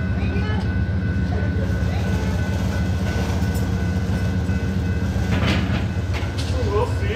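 Amtrak's California Zephyr passenger train passes at Fort Morgan with a steady, loud rolling rumble and faint rhythmic wheel clatter close by, while a voice talks over a radio.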